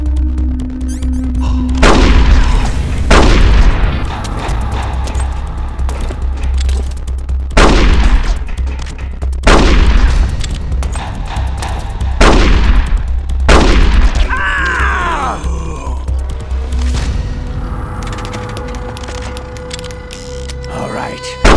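Gunfire from the video game Metal Gear Solid: The Twin Snakes, in a hangar revolver duel: a series of loud, sharp shots spaced a few seconds apart over steady low game music and effects, with voices speaking between shots.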